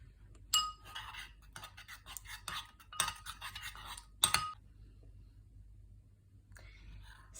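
Glitter slime is stirred in a container, giving soft squelching with scattered light clinks and taps of a utensil against the bowl, close and quiet, with faint whispered talking in between.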